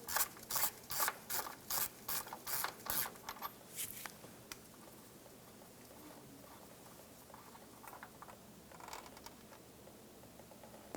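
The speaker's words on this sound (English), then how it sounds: "Using a 22mm socket, remove this inside bolt" Ratchet wrench with a 22mm socket clicking in quick rapid bursts for about four seconds on an oil cooler bolt of a 2003-2007 Infiniti G35, then faint scattered clicks and quiet workshop background.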